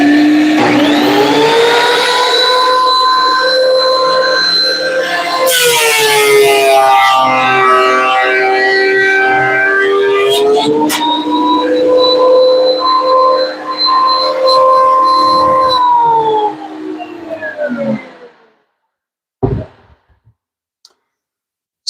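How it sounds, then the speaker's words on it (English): Sanding machines run on wood, a loud steady mechanical whine with shifting pitch and brief surges, then winding down and stopping, followed by a single knock in near silence. "Helps if I turn the machines on first."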